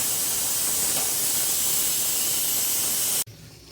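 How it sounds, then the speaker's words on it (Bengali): Meat searing in a hot pan with chili powder gives a loud, steady, close sizzling hiss that cuts off abruptly near the end, with no voices. "যতক্ষণে মাংস থেকে জল বেরোবে ততক্ষণ পর্যন্ত মাংসটা কষিয়েই যাবো"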